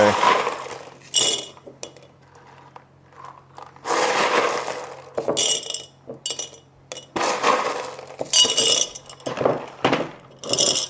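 Leca clay pebbles get rinsed in bursts of running water, with gritty rattling and light clinks of the pebbles shifting between the pours; quieter gaps fall in between.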